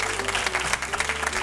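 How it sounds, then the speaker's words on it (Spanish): Studio audience at a television show applauds loudly and continuously, a thick rush of many clapping hands close by, with a low hum underneath and no clear speech. "Un aplauso para la fija y la pareja roja."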